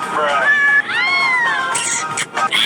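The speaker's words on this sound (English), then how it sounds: "there's a cat in the right one, and there's definitely a couple in the left one." A cat in a Roblox game lets out a couple of drawn-out, rising and falling meows, clear and close, with a brief gap between them and faint background babble toward the end.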